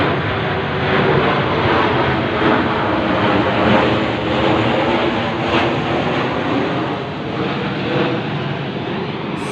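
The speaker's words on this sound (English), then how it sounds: "Smaller army aircraft straight over my head." A small army aircraft passes straight overhead, its loud, steady engine roar filling the whole stretch with a slight swell in the middle.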